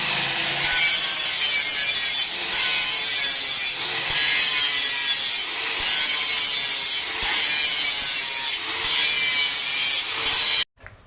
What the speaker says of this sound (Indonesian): Linernya kita gerinda dulu, kita ratakan supaya bisa dibalik.